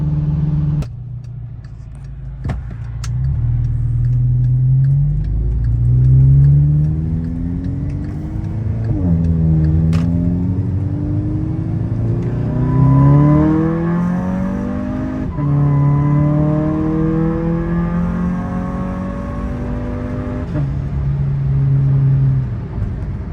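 An Audi/VW 2.0T engine revs steadily while driving after a vacuum leak repair, its pitch rising and falling through gear changes, with a loud, continuous drone throughout.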